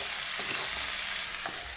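Half a kilo of okra (bhindi) fries in a pan, a continuous loud sizzle with a couple of soft stirring scrapes, heard close and alone.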